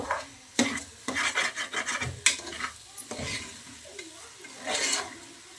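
Soaked rice being stirred and fried in a pot for bachelor-style mutton biryani, heard as irregular scraping, rasping strokes of a spoon against the pot, close up with a few sharper knocks and no talking.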